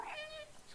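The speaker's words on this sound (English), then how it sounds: "So press circle to meow and it'll give you a hint." A single short cat meow from the video game Stray, a clear tonal mew rising and then falling, heard close and on its own at low volume.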